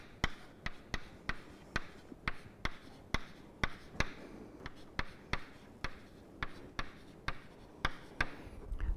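Chalk or marker strokes on a lecture-hall board come as a quick series of sharp, regular taps and scrapes, close and fairly quiet, with no talking.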